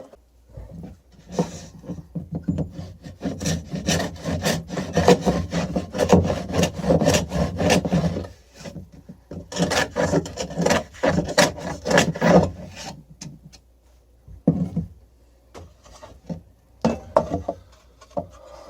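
Hand saw cutting across the edge of a wooden box to even it up, two long runs of rhythmic rasping strokes separated by a brief pause, close and fairly loud, with a few scattered strokes toward the end.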